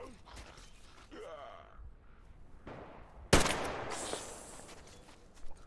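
Gunfire in the video game Metro Exodus: one sharp, loud shot bursts out partway through, followed by a ringing, fading tail, after quieter scuffling and creaking game sounds.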